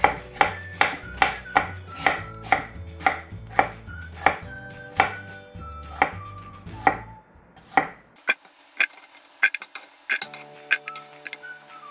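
A knife chops a pear steadily on a cutting board, around a dozen crisp, even strikes in a row, then a few sparser taps and light clinks.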